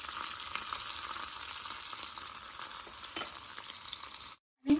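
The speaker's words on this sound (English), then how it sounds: "I am adding some green chilies, and I am going to saute this one for a minute." Mustard seeds and green chilies sizzling in hot oil in a pan, a steady close crackling hiss with scattered pops, cutting out abruptly near the end.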